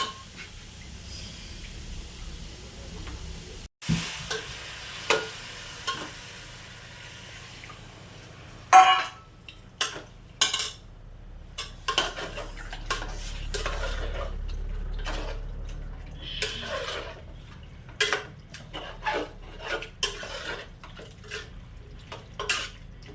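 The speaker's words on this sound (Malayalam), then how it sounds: "ഇനി കഴുകി വാരി വെച്ചിരിക്കുന്ന ഇറച്ചി അതിലോട്ട് ഇട്ട് കൊടുക്കുന്നു. എന്നിട്ട് കുറച്ച് വെള്ളവും കൂടെ ഒഴിച്ച് നന്നായിട്ടൊന്ന് ഇളക്കി കൊടുത്ത്" Chicken meat and water are stirred in a cooking pot, with scattered metallic clanks and scrapes of a utensil against the pot over a faint hiss and bubbling of water.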